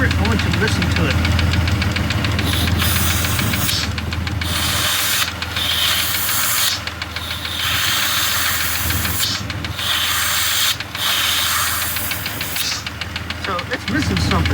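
A 2002 Jeep Grand Cherokee engine runs close by while a hand covers a vacuum hose, giving a loud steady rumble with rough, rubbing hiss and periodic drops and surges in the running sound.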